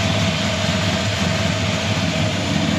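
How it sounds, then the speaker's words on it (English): Fuel-injected 360 cubic inch V8 in a 1967 Plymouth Belvedere II running steadily with a loud, continuous low rumble, close up and alone with no voices. "Fuel injected 360 fires right up just like it should."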